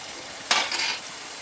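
Spices sauté in a hot pan during home cooking of a Bengali fish curry, giving one short, close burst of hissing sizzle and stirring that fades back into quiet room tone.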